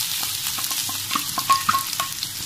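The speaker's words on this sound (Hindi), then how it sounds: "प्याज को हम 2 से 3 मिनट तक इसी तरह से चलाते हुए भून लेंगे" Finely chopped onion and cumin fry in hot oil in a kadai, giving a loud, near crackling sizzle with quick stirring clicks and a few sharp metallic spoon taps against the pan.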